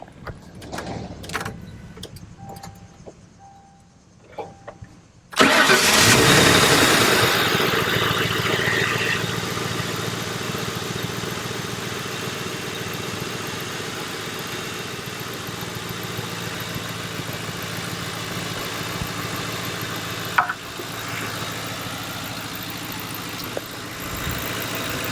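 A 2005 Ford Crown Victoria P-71 police interceptor with high mileage sits quiet, then its engine cranks and fires with a loud burst and settles into a steady, smooth idle hum up close.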